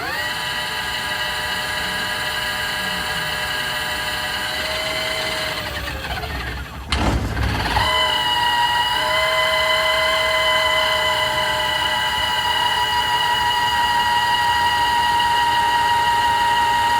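An electric motor running under a FarDriver controller during an auto-learn cycle gives a steady high whine that cuts off briefly, then spins back up to a smooth sustained tone, with no talking.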